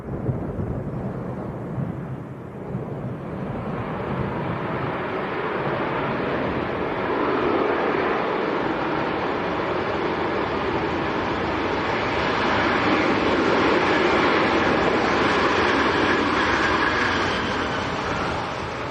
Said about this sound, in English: Another Ryanair getting the speed off very quickly, nicely making the turn onto Alpha.